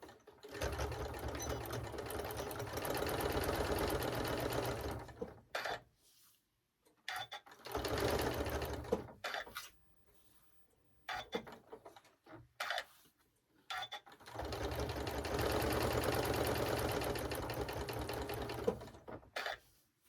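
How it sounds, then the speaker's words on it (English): A sewing machine stitches down the flap of a fabric notebook cover in three long, steady runs of rapid whirring, separated by pauses with scattered clicks and handling noise. "I'm going to sew our little flap down real fast"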